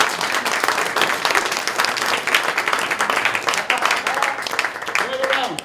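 Lively audience applause at a cartoon history event, with many hands clapping densely and continuously, while a speaker's voice rises over it toward the end.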